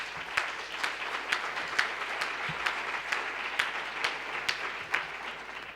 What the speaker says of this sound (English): So one applause for Wendy today.